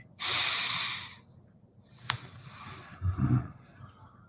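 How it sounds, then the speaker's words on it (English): A long, forceful breath hisses in and out through the nose, then after a sharp click comes a quieter exhale and a low snorting rumble, all close to the mic. "Nose breathing."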